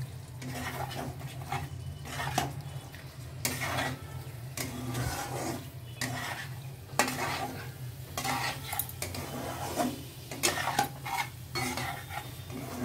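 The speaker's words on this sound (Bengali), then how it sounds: "এখন আমি ফুলকপিগুলো দিয়ে দিচ্ছি" Cauliflower florets go into a hot pan, a spoon scraping and clinking against the metal in irregular strokes over a faint, steady sizzle, close and fairly quiet.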